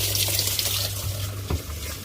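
Water runs through a washing machine's water inlet valve during a test, a steady hissing flow with a faint electrical hum underneath and a light knock partway through.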